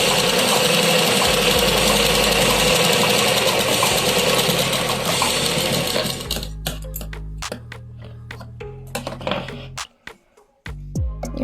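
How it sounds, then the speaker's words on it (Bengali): A sewing machine top-stitches the front of a blouse, whirring fast and steadily for about six seconds, then running in short stop-start bursts with clicks in between. "চাপ সেলাই দিতে হবে।"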